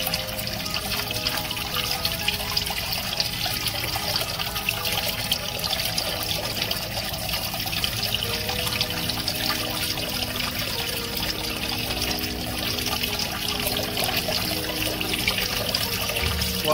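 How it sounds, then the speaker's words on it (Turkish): Hot water runs from a tap for washing, a steady, unbroken splashing stream that stays close and fairly loud throughout, with no voices. "Sıcak suyla yıkıyorum."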